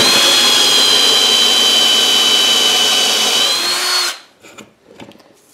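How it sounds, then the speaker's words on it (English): A drill spins a barrel trimmer through a pen tube, a loud, steady high whine that runs for about four seconds and then cuts off, followed by a few light knocks and scrapes. "You always want to go in with the long end of your barrel trimmer in first."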